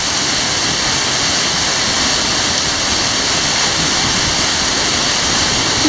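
Sukhoi waterfall in Crimea, a steady, dense roar of falling water that fills the scene at constant loudness throughout, with no voices or other sounds breaking through.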